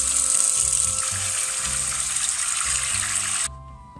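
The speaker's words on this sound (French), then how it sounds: "je vais remplir un bac d'eau chaude comme dit Béa dans sa vidéo" Hot water runs steadily from a tap into a tub, a loud continuous rushing gush that cuts off abruptly near the end, leaving a quieter background.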